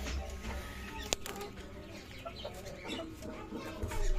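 Golden Misri hens on a rooftop farm, clucking softly amid steady outdoor background noise, with one sharp brief sound near the start and intermittent low fowl calls throughout.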